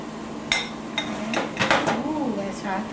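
Bacon and cabbage for a Polish kapusta get stirred in a pot, with several close metallic scrapes and clinks of a spoon against the sides over a few seconds, while a voice speaks faintly underneath.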